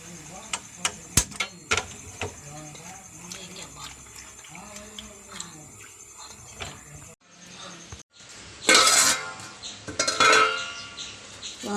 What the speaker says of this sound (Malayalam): മൂടി വയ്ക്കാം.